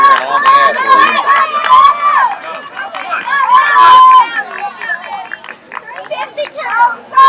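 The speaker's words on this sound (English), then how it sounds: "The fans cheering on the athletes." Fans line a cross-country course at the Beast in the East race and cheer on runners with loud, excited shouts from several voices close by, some of them children, in bursts of encouragement that overlap one another.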